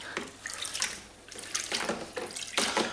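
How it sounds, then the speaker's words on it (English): A chrome metal part from a Camaro build is plunged and swished in a container of water to rinse it, giving several close, splashy sloshing bursts. "just plunge that into the water to wash it off"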